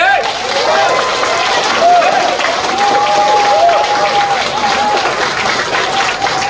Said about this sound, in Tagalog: Pwede bang lakasan yung palakpak ninyo sa PGH?